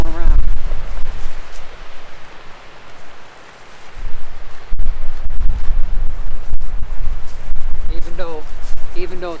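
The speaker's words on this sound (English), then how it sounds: "it's really windy" Gusty winter wind buffeting a microphone at a campsite while a tent is being set up, rumbling loudly in waves that drop briefly before surging again, with a voice speaking at the start and end.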